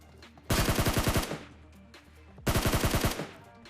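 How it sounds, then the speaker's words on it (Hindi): Two loud bursts of rapid automatic gunfire in the video game PUBG, each lasting under a second and separated by a short pause, with no talk over them. "मैंने देखा कि यार फायरिंग का साउंड आ रहा था"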